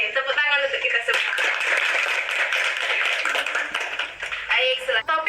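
A small group in a school group counseling session claps together for a few seconds, with voices talking over and around the applause.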